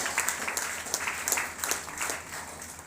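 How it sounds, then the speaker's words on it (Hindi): Audience applause for Kullu Manali achievers called on stage at a leadership event, steady crowd clapping sustained throughout at moderate volume. "तालियां हम लोग बजाएंगे।"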